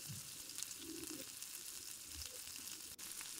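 Butter melting in a pan gives a soft, steady sizzle with faint crackling throughout as oyster sauce goes in, low in level and without talk.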